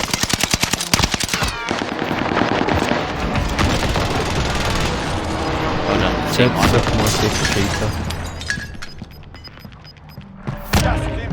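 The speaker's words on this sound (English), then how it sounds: "I was shooting through the building." Sustained automatic gunfire from Call of Duty: Warzone with the NZ-41 rifle, loud rapid bursts shooting through a building, running nearly the whole time with a brief lull near the end, while players talk over it.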